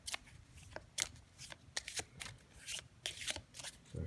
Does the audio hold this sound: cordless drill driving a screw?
no